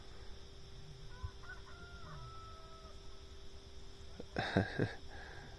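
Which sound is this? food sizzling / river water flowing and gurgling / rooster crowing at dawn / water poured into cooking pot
rooster crowing at dawn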